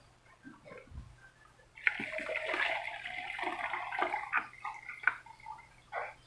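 Water poured out of a Black Pearl 5-liter appliance, starting with a few faint knocks and drips before a continuous splashing gush that runs for several seconds with uneven surges.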